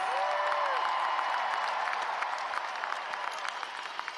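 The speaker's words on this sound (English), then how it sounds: "Let's give them a round of applause." Sustained applause from a large audience at a 2026 undergraduate commencement ceremony, a dense, steady wash of many hands clapping that holds evenly and begins to thin slightly toward the end.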